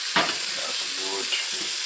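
Onions and garlic frying gently in a pan on low heat, a soft continuous sizzle with a single stir and scrape near the start, close and steady with no talking.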